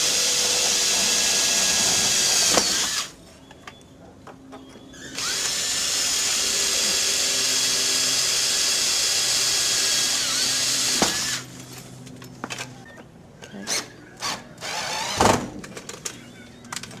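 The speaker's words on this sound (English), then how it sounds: "just drill them in the centre of the hole" A power drill drives screws into hinge holes while an RV safety door is installed, running in two long steady whirring bursts with a short pause between them, then a few brief clatters.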